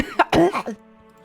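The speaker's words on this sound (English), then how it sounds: "She coughs up blood again." A woman coughing up blood gives a few short, harsh, wet coughs close up, followed by a quiet tail with faint background tones.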